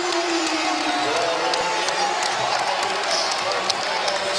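A charged-up arena crowd at a college basketball game between Duke and Boston College cheers and claps in a sustained roar, with a commentator talking over it.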